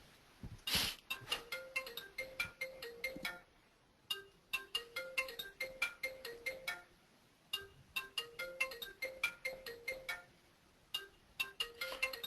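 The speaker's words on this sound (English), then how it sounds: "phone is ringing." A mobile phone ringtone rings repeatedly in a room during an online meeting, a bright chiming pattern that plays in bursts with short pauses between them, moderately loud and steady.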